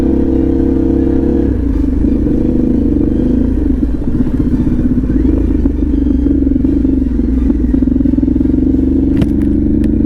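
A Harley-Davidson Pan America motorcycle engine running at an unusually high idle, with a loud, steady, close-up drone and faint mechanical clatter that holds for the whole stretch.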